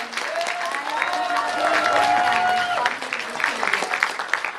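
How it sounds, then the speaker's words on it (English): A round of applause from an Anime Expo 2011 live panel audience, mixed with voices and a cheer rising over the clapping, which thins out toward the end. "So give him a round of applause, please."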